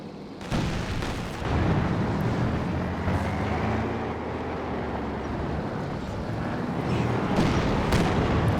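Sustained gunfire at a Panzer IV tank in the strategy video game Company of Heroes 2: a dense, loud rumble of battle with repeated booming shots and rattling fire layered over each other, no talk.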